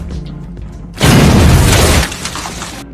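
An explosion blowing up a toilet in an action film, a loud sudden blast with shattering debris that lasts about a second, then fades into lingering rumble.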